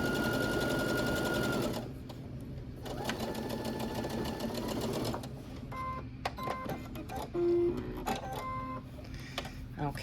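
A sewing machine stitches forward and back on Halloween fabric, running in several bursts of rapid mechanical whirring with short pauses and clicks between them, close and clear.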